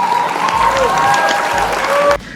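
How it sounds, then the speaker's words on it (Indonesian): A classroom of students claps together in a dense, steady round of applause that holds at an even level, then drops away sharply near the end. "Kita aplaus dulu."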